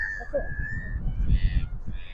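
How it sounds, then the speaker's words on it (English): Seagulls calling on a windy shore by the Humber estuary, a few harsh squawks and a thin sustained cry heard fairly close over wind rumble and murmured talk. "So our seagulls are having a go."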